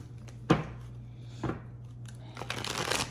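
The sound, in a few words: shuffling a tarot card deck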